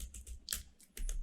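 Quick clacking keystrokes on a computer keyboard while Node.js code is being typed, several close, crisp taps in an uneven rhythm with short pauses between bursts.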